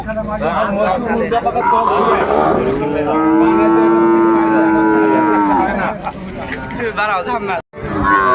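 Sahiwal cattle at a busy livestock market give a loud, drawn-out moo that swells and holds for a couple of seconds, with shorter lows around it and people talking throughout.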